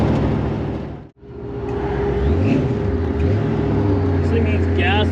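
A supercharged 1955 Chevrolet Nomad gasser engine pulls at half throttle from inside the car, a loud, deep rumble whose pitch climbs steadily after a brief dip, with a voice talking over it.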